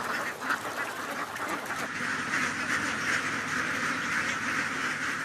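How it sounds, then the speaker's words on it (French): A flock of ducks quacks in a dense, continuous chorus, loud and close, with many overlapping calls. "Ces armées de canards nettoyeurs sont devenues la norme dans les campagnes du royaume."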